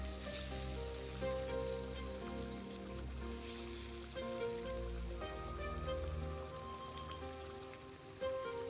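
Washed mung dal frying with ginger, garlic and spices in a pan while cooking fish-head muri ghonto sizzles softly and steadily, with faint background music under it and no voices.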